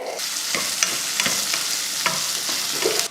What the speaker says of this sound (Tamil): வெங்காயம் இந்தளவுக்கு பச்சை வாட போகிற வரைக்கும் வதக்கிட்டு